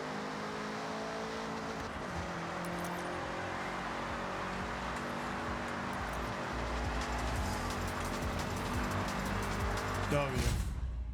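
Car engine in the racing game Forza Horizon 6 runs steadily throughout, with gear shifts audible as pitch steps around two and ten seconds, ending in a louder rev, while a person talks over it.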